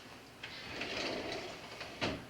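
Plastic storage drawers slide open and shut on their runners, giving a few soft close rolling swishes with a sharper knock at the end.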